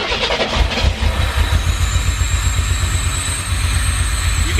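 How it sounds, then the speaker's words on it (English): A Fiero-based Ferrari replica kit car engine runs at a rough, erratic idle, the rumble rising and falling unevenly and loud throughout, with no talking. "You can hear the idle going up and down."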